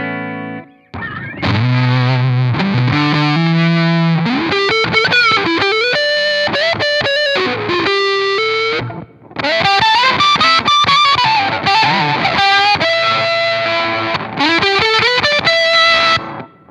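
Electric guitar on the bridge pickup through an octave fuzz pedal, a thin, piercing, heavily distorted tone with sliding and bending notes played in two long phrases separated by a short pause, no talking.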